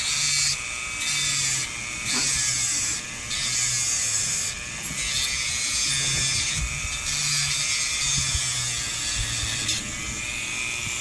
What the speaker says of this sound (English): I'm just going to use a Dremel and just flatten that out, make it nice and smooth